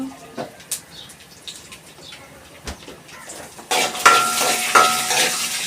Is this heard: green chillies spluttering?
yes